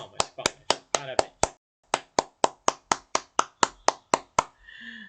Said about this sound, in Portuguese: Quero escutar as palmas.